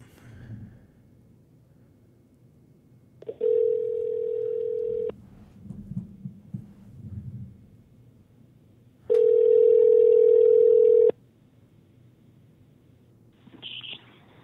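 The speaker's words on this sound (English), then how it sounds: "I'm about to give him a call, so he gonna be calling in." Outgoing phone call ringing out, two long steady ring tones separated by a pause, clear and close, with faint background noise and brief murmurs between them.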